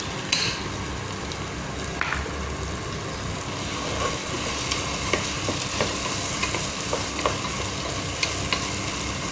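String beans tossed into a hot pan and stir-fried, giving a steady, close sizzle throughout with scattered clicks and scrapes from stirring.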